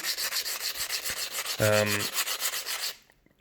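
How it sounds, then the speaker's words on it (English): An opal being ground by hand against sandpaper gives a steady, rhythmic scratchy rubbing, close and continuous for about three seconds, with a brief tonal squeak partway through, then it stops. "we just start grinding away, and given the fact that I'm doing it with sandpaper and by hand"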